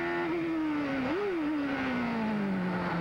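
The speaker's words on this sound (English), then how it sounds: "Now listen to the heavy braking here." A 1991 CART race car brakes hard at Laguna Seca, its loud engine tone dropping steadily in pitch as it slows, with a brief blip partway through, close and continuous without talk.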